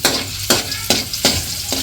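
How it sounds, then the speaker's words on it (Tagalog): Onions hit hot oil in a wok, a loud close sizzle broken by four crisp stirring scrapes about every half second, with no talking over it. "Lalagay na po natin yung sibuyas"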